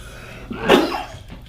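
A single sharp sneeze from a lecturer, brief and close, standing alone with quiet room sound around it.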